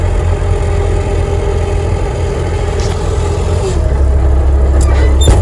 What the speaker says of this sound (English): With the engine slowed down, I'll shut this off. That's pretty loud.